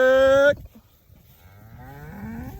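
Cattle being directed with polywire give a loud, close moo that stops abruptly, followed by a second, quieter and more drawn-out moo that rises in pitch.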